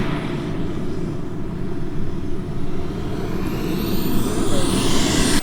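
An Extreme Flight Slick 580 RC airplane in the Santiago Scheme flies on its maiden flight, its motor giving a steady broadband drone that builds slightly toward the end, with no talk over it.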